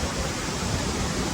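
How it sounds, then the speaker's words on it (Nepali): At Lava Waterfall, a cool breeze carries spray in a continuous, even hiss and rumble of falling water, close and fairly loud throughout the short stretch. "क्या मिठो शीतल हावा आइदिरहेछ"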